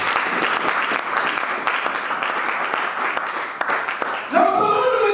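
A church congregation applauds steadily throughout, a dense continuous clapping that swells slightly near the end as other sounds join in.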